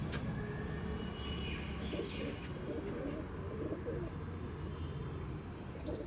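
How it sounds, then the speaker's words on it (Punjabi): Pigeons coo softly in a repeated low murmur against a busy outdoor background, with a few faint chirps mixed in. "ਆ ਗਈ ਕਬੂਤਰੀ ਵੀ"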